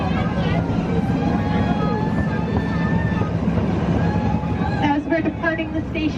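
Zoo tour train pulling out of the station with a steady rumbling drone and faint tonal whines, and a guide speaking over it throughout.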